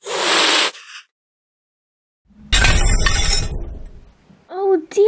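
A Christmas tree topples with a burst of shattering and clinking glass ornaments, loud and close, after a short crash at the start; a voice exclaims briefly at the end.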